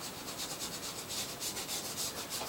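Rubbing weathering onto the surface of a junkyard scale model, a steady, close, soft scrubbing texture with a gentle back-and-forth pulse, continuous and alone without talk.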